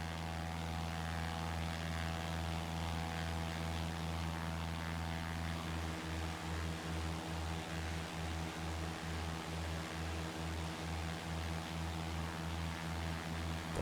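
The propeller engine of a Cessna 172 SP in the X-Plane 11 flight simulator drones loud and steady, its low hum pulsing into a regular beat partway through, heard alone with no talking.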